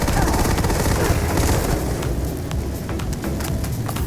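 Rapid, dense bursts from the Acid Rain weapon in Starfield, a loud continuous volley of shots filling the whole stretch, with a voice talking over it.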